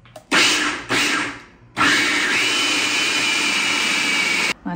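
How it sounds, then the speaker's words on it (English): A blender pulses a blueberry protein bar mixture in a few short bursts, then runs continuously on high with a loud, steady whir that rises slightly in pitch and cuts off at the end. "And then we're just gonna snap in our lid and pulse it and then blend it on high until it's well incorporated."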